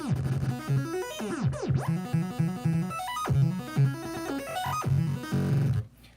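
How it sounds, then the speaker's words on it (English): A synth arpeggio in FL Studio chopped into a stuttering, gated rhythm by the Gross Beat plugin, with busy stepping notes and glides that cut off abruptly near the end, played alone without talk. "With gross beat, I can like make it stutter."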